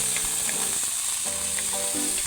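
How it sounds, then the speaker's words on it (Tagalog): Pork browning in a hot pan, a loud continuous bright sizzle of meat frying in its own fat, steady throughout, with a few faint clinks and scrapes underneath. "ipa-brown muna natin ang pork"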